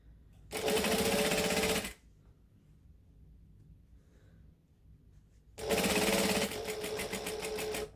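A sewing machine top stitches a unisex sling bag in two loud bursts of rapid, even stitching, each lasting over a second, separated by a quiet pause.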